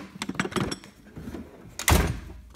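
A heavy drawer of a Harbor Freight tool box slides with metallic rattles and clunks, then closes with a loud thunk near the end.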